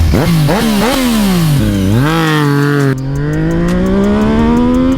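A Japanese motorcycle with an aftermarket exhaust revs hard and close, with rapid throttle blips rising and falling and then a sustained high-rpm howl with a crackling, raspy edge.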